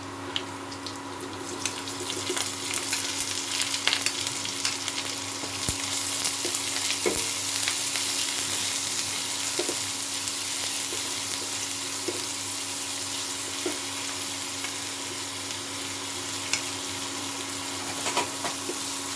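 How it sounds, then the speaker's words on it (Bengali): Chopped onion frying with garlic in a pan for begun bharta gives a steady, close, continuous sizzle with faint stirring, heard alone without any talk. "এখন আমি এর মধ্যে পেঁয়াজটা দিয়ে দেবো, কুচনো পেঁয়াজটা।"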